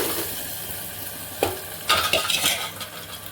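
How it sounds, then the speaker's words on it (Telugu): Mashed dal with moringa leaves hitting a hot oil tempering in a pan, a soft hiss followed by sharp sizzling and scraping stirring, close and brief. "ఇప్పుడు రుద్ది పెట్టుకున్న పప్పు వేసేసుకుంటున్నాను."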